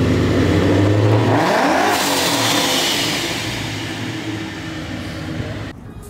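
A 5.0 V8 with straight-pipe exhaust, loud and close, rising in a revving sweep then holding a rough, throaty drone that slowly settles, with no talk over it.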